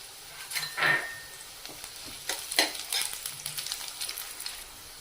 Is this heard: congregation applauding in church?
no